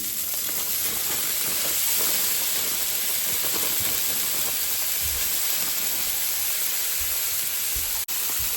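Rice fries in ghee on a Blackstone griddle, giving a constant loud hiss and crackle throughout with no talking, broken only by a brief dropout near the end.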